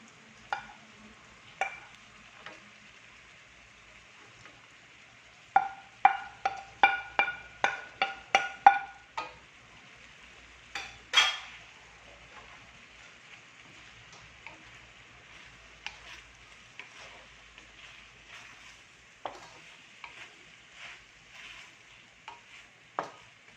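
Carrots are stir-fried for pancit bihon, with a quick series of sharp spatula clicks against the pan over a faint sizzle, followed by scattered softer taps, close and without talking.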